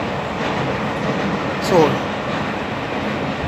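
A train rolling through a station by a tunnel, a steady broad rumble throughout with a brief louder swell midway, heard under someone talking.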